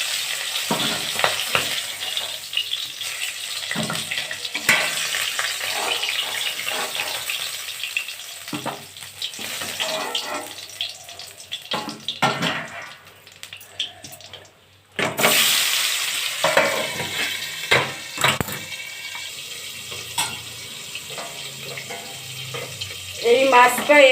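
Fish frying in oil in a covered pan, a steady hissing sizzle that swells and drops as the lid is handled, with clatters and a voice speaking over it.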